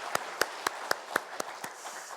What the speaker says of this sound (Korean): 하나님 앞에 영광의 박수 함께 올려드리겠습니다